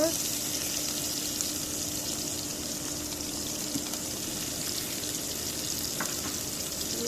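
Chopped onion and green chillies fry in hot oil in a pan, a steady, even sizzle with a soft hiss that carries on without pause throughout.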